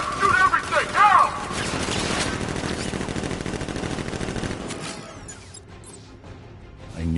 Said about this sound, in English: Guns! Open fire! Shoot everything!